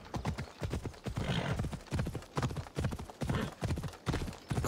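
Rhythmic hoofbeats of a galloping horse in Assassin's Creed Odyssey pound close by in quick repeated bursts, with a brief whinny mixed in.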